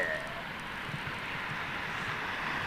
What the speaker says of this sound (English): Oh, it's a bizjet. Bombardier!